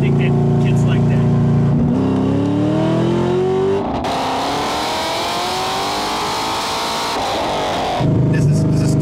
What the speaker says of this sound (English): This is the 3-inch exhaust.